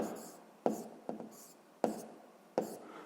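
A math problem, finding the least common multiple of 48 and 56, is written out by hand in several quick, close scratchy strokes separated by short pauses.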